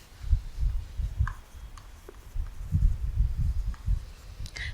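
A pen scratches and scrapes across paper in short bursts of strokes, close and moderately soft, with brief pauses between written marks and no speech.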